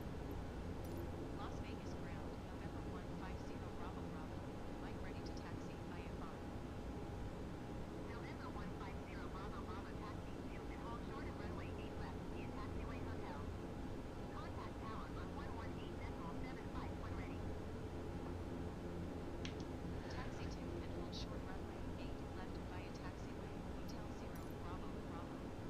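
An airliner taxis at Las Vegas in a flight simulator game, producing a steady, low engine drone that hums continuously throughout with little change, while faint voices sit underneath.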